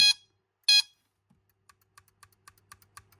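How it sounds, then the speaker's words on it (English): A vintage 1976 Mego Star Trek Super Phaser II target game toy gives two short, bright electronic beeps close by, followed by a series of faint, quick plastic clicks. "As soon as I hit a reflective surface and the beam hits back into here, it picks up the flashback on there, it will beep."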